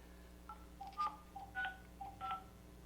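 Telephone keypad tones dialed in a short sequence on a call to Optimum cable customer service, four or five quick two-tone beeps heard faintly and alone over a low steady hum.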